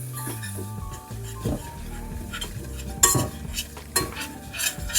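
Butter and flour roux cooking over medium heat for baked mac and cheese, a gentle sizzle with scraping and clinking whisk strokes against the pot, under soft background music.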